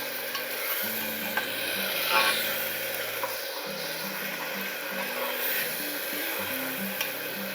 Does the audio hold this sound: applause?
no